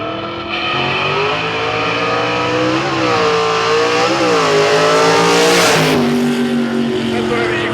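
A drag racing car launches at a dragstrip reunion event, its engine roaring loud and close, pitch climbing then dropping sharply at each clean gear shift, with another car audible in the other lane.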